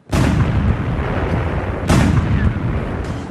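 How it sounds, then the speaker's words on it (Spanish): Tank main cannon firing: two heavy, broadband blasts about two seconds apart, loud and close, each with a long rumbling decay. "Cuando uno de esos disparos da en el blanco, este es identificado por el cañón principal, que entonces hace su tiro."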